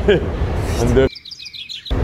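A person imitates little birds chirping, with a burst of high, quick whistled tweets alone for just under a second, right after people talk.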